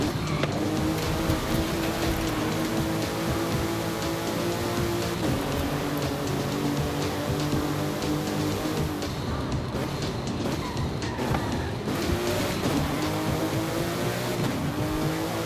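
A race car in Forza Horizon, fitted with a large rear spoiler and tuned for handling, roars steadily at high revs, its engine note climbing and falling through gear changes as the tires squeal through corners.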